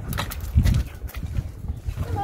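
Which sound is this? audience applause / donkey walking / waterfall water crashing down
donkey walking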